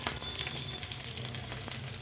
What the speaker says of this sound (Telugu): అన్నీ వేసిన తర్వాత కొంచెం దూరగా వేయించుకోవాలి.